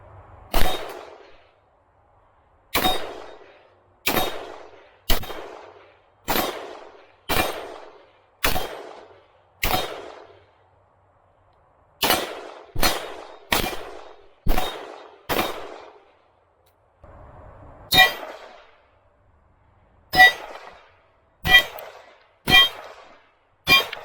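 AK-47 rifle shots in 7.62x39 ring off steel targets at about 30 to 40 yards outdoors, each loud crack followed by a short metallic ring, fired singly in a steady, fairly even rhythm with occasional pauses.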